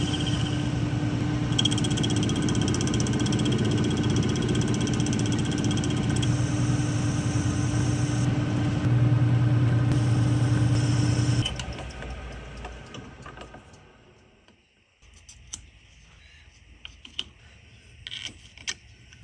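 A lathe turns a clock part held in a wooden chuck during a shield clock restoration, giving a steady mechanical whir and hum that runs loud for about eleven seconds, then spins down, followed by a few faint clicks.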